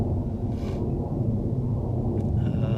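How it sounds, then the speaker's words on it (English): An F-16 fighter jet passes overhead near an Air Force base as a steady, loud low rumble that holds throughout without fading. "there's an F-16 flying."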